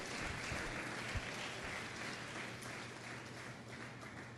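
Church congregation applauding, a dense steady wash of clapping that slowly fades, heard from a distance and fairly faint.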